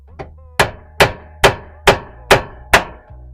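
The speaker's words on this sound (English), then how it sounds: "Get yourself your hammer, give it a little tappy." Seven sharp metallic hammer taps on a Corvette C6 leaf spring bolt, close and evenly spaced, each ringing briefly before the next strike.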